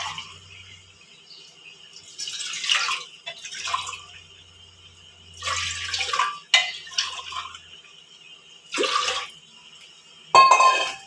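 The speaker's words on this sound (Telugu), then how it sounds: "4 గ్లాసులు నీళ్ళు పోసుకుందాము." Water poured glass by glass into a cooking pot, several separate splashing pours of a second or two each with quiet gaps between, close by and without talk.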